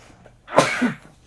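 A single close, loud sneeze bursting out sharply and fading within a second against a quiet room.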